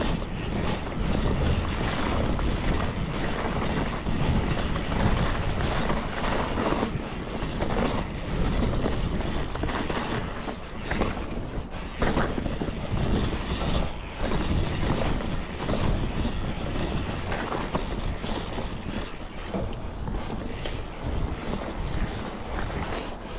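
A mountain bike rides down a loose trail, producing a constant loud rush of wind noise mixed with rattling and clattering from the bike, with no talking.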